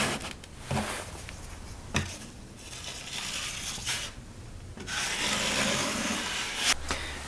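Self-adhesive aluminum patch pressed firmly over a hole in drywall, a close rubbing, crinkling scrape that rises and fades over several seconds of hand pressure.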